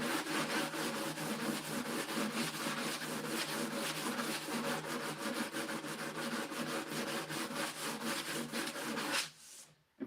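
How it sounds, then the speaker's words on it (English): A fiberglass-coated retro furniture piece is sanded by hand, fast rhythmic back-and-forth rasping strokes, close and steady for about nine seconds before stopping abruptly. "So I have to sand this out to the best of my ability."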